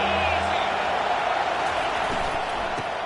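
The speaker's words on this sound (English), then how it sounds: "this crowd is tearing the lid off this place." Dense roar of a football stadium crowd during a third-down play, a loud continuous wash of cheering and shouting with broadcast commentary talking over it.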